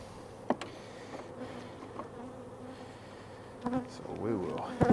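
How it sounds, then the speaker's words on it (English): Honeybees around a hive fitted with a newly installed pollen trap, scattered close buzzing passes that rise and fade over a quiet background, growing busier near the end. "You can see instantly there's tons of bees and confusion here now."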